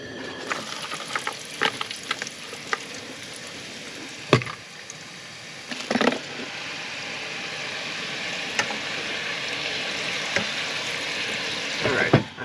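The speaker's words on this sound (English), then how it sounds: "I'm just gonna double fry them" Potatoes double frying in hot oil at a truck camp at Egyptian Lake, a steady sizzling hiss with occasional sharp clanks and scrapes from stirring.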